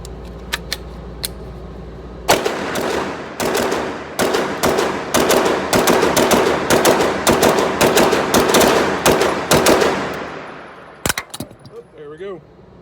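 An AR9 carbine fitted with a PSA 3.5 drop-in trigger fires a rapid string of loud, sharp shots at close range for several seconds, preceded by clicks and followed by a few metallic handling sounds.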